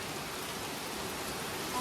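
Hail falling on a hiking trail, a steady, even wash of pattering noise with no distinct separate impacts.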